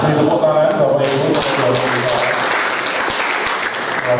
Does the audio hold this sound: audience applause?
yes